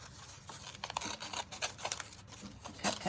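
Scissors snip through paper shapes for a mola craft, a run of short crisp cuts at an uneven pace, close up and alone with no talking.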